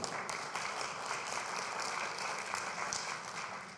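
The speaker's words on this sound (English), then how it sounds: "So round of applause for Covenant as well," A room of attendees at a health and technology breakfast panel applauding, a fairly distant, steady wash of clapping that holds evenly and tapers slightly at the end, with no voices.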